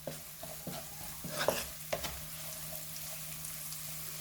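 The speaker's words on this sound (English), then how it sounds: "we'll add in the chillies and fry that for about a minute" Chillies and salt fry in a pan with a steady soft sizzle under a few scraping stirs near the start, close and fairly quiet.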